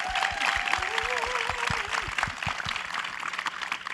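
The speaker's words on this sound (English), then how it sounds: "Give her a round of applause." An audience claps for a panelist at a food panel discussion, scattered applause under a sliding whistle-like tone and some background voices, fairly steady but thin.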